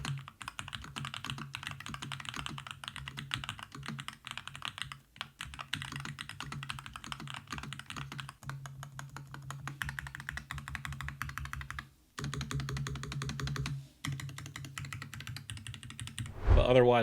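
Typing on a Melgeek Made68 Air, a low-profile Hall effect keyboard, with steady rapid keystrokes clattering close and continuous for most of the stretch, broken by a few short pauses.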